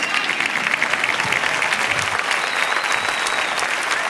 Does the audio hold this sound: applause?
yes